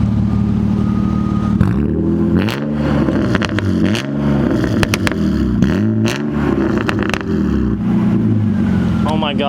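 BMW E36 328i convertible revving hard, its exhaust loud and close with sharp pops and bangs between the rises in engine pitch, while people talk over it.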